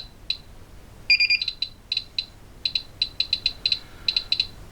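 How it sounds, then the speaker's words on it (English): A small electronic gadget alarm beeps in quick repeated bursts of high-pitched chirps, close and clear over quiet background. "sounding the alarm there."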